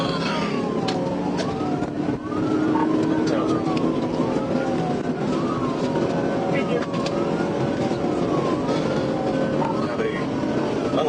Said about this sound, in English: Trooper Robbins engaged his patrol car, activated the lights and sirens, and began closing in on the speeding motorcyclist